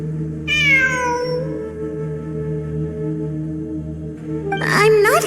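A cat meows repeatedly in the game Genshin Impact, rising and falling calls heard clearly over a steady low ambient drone and game music, with a second, sharper burst of meowing near the end.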